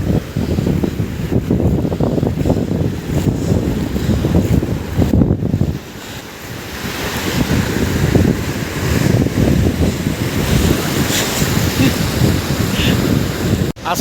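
Sea waves wash in at Gopalpur beach on the Odisha coast, a steady loud roar of surf with wind buffeting the microphone, and a brief lull near the middle before the rush of water builds again.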